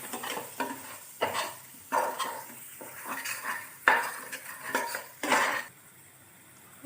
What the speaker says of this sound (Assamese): এতিয়া মই এইখিনি ভালদৰে লাৰি দিম